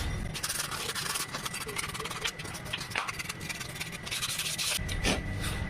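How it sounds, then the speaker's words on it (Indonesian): Sandpaper scrubs the inside of a scooter's CVT clutch bowl, with close, continuous rasping strokes in a brisk back-and-forth rhythm that carries through the whole stretch. "ini bagian mangkok ganda juga jangan lupa kita amplas sedikit."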